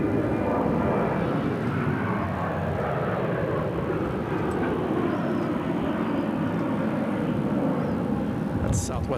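A Southwest Airlines Boeing 737-800 jet at Phoenix airport makes a steady, broad engine roar that holds at a fairly loud level throughout.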